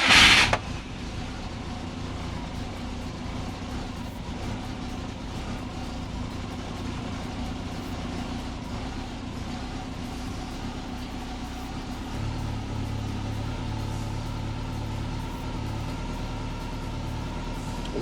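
A car that has had its automatic gearbox swapped for a manual sits idling with no throttle, a steady low engine hum after a brief loud burst at the start, dropping slightly in pitch near the end.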